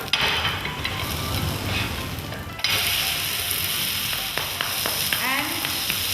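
An oats uttapam fries in oil on a pan, giving a steady, fairly loud sizzle and crackle that runs throughout, with a brief dip partway and a few faint scrapes near the end.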